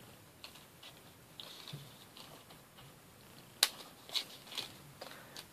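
Scissors cut paper into two leaf shapes for a spiral leaf and flower embellishment, giving a few faint, crisp snips against a quiet room.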